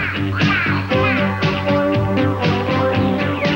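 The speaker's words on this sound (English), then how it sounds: "When a duck sticks his head underwater and his tail feathers straight up, he's called a puddle duck" A duck quacks repeatedly in a steady run of loud, close, raspy calls within a Genesee beer radio commercial, with no talking over it.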